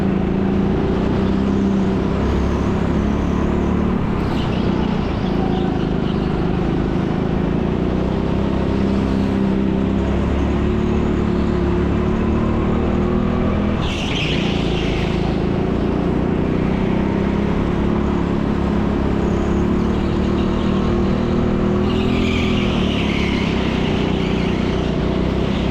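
Go-kart engines racing at the TeamSport Leicester indoor track during a public session, a loud continuous drone with rising and falling revs and occasional higher whines as karts pass, with no talking.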